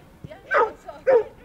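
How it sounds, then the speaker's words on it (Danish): A Jack Russell terrier at an agility training session gives two sharp, close barks about half a second apart, with faint background noise between them. "Vi skal med Jack Russell-terrieren Emma til agility."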